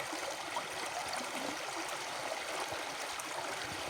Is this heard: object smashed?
no